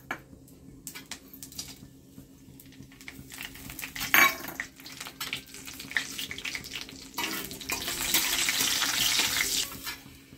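Whole spices dropped into hot oil in a pan for an egg curry produce a sharp metallic clack, then a rising steady sizzle that builds louder toward the end, close and with no talking.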